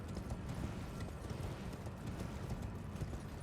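Horse hooves clip-clop quickly and steadily in the Elden Ring video game, a dense run of hoofbeats set against a constant rumbling background roar.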